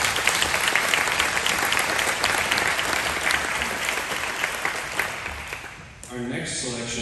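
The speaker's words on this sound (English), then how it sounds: "How about a round of applause for our accompanist, Dr. Anna Barris?" Audience applause at a high school chorus pops concert in honour of the accompanist, a dense, steady wash of clapping that carries for about six seconds and then fades out.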